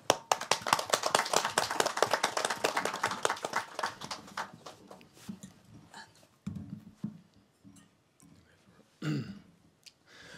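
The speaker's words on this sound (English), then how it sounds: "So please give a big round of applause to Divya Agrawal and Feike Smith-House." Audience applause at a university manifesto presentation on just cities, dense clapping for the first few seconds that thins out, followed by scattered taps, shuffling and a cough.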